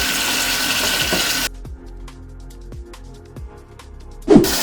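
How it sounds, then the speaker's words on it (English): A tap runs cool water into a bathroom sink, a loud steady rushing pour that cuts off abruptly, followed by a few faint drips and small clatters in the basin. "I'm going to fill the sink up again with cool water"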